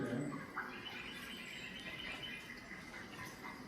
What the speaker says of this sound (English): Not many sounds other than just wild sounds, birds